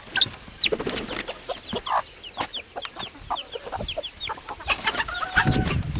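A hen and her young chickens in a backyard flock make close, busy clucking and sharp chirping calls in quick irregular bursts, with no talking.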